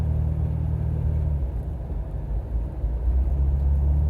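A car driving through snow, sliding from side to side, gives a steady low engine rumble with a dense road roar throughout, loud and close, with no talking.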